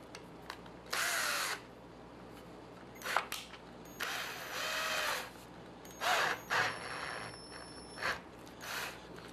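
A power drill with a 1.6mm bit drills into a SkunkBox case for an Atari Jaguar Skunkboard, running in short whining bursts of about half a second each, six or seven times, with brief pauses between them.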